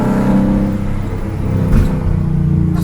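Engine of a Ford Mustang GT500 Eleanor drones loud and steady while driving, with a deep low-pitched rumble and a slight rise in revs partway through.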